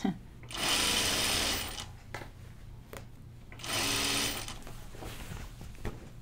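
A sewing machine runs a long seam on a caftan-style dress with side vents, two long steady bursts of fast stitching separated by quieter pauses, close and loud.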